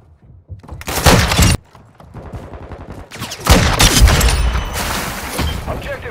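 Gunfire from an SA-B 50 in Call of Duty MW2, loud close bursts of rapid shots separated by a short lull, mixed with in-game battle noise and chatter.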